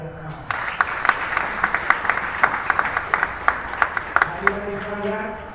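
An audience claps steadily for several seconds, the sharp claps loud and close, with a speaker's voice before and after.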